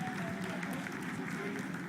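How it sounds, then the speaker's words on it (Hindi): Applause breaks out in ISRO mission control during the Chandrayaan-3 powered descent toward the Moon, a continuous, fairly faint room-wide clapping under a speaking voice. "Lot of applause indicates that till now the performance has been nominal."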